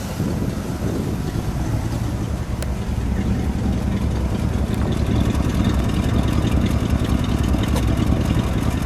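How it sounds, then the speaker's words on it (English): A deep, steady V8 idle from a 1966 Oldsmobile Toronado with a rumbling exhaust note, close and continuous, never revving. "Let me get a little exhaust note."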